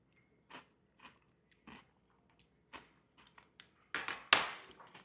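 Someone tasting homemade egg salad on homemade bread, sweetened with a little sugar or honey, gives a few soft, sparse mouth sounds up close, then a louder crunchy bite and chew near the end, with no talking.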